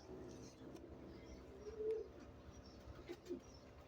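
Pigeons cooing in a loft, including a wire pigeon: low, soft, throaty coos repeating faintly under a steady background hum, with a slightly louder coo near the middle and a voice talking softly.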